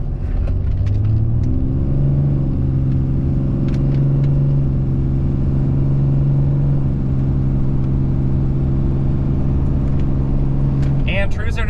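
A modified Ram 3500 truck accelerates hard from 0 to 60 with traction control off, its engine droning loud and steady from inside the cab, the pitch climbing briefly after launch.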